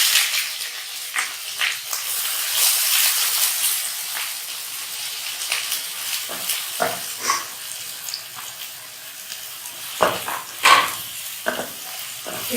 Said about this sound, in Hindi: अब मैंने इसमें कढ़ाई में ऑयल आधी प्याली तकरीबन मैंने ऐड किया है। ये मैं प्याज इसमें ऐड करूँगी।